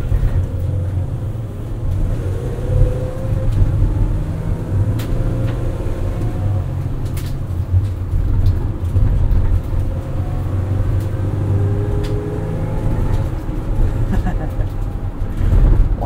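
Cabin sound inside a moving 2019 Mercedes-Benz Sprinter 3500XD crew van: a steady low engine and road drone with faint turbo whooshes and a thin transmission whine, continuous and fairly loud throughout.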